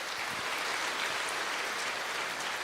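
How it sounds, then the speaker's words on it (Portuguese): A congregation applauds during a church worship service, a steady dense wash of clapping that holds at an even, moderate level throughout with no voices standing out. "Aplauda o Senhor."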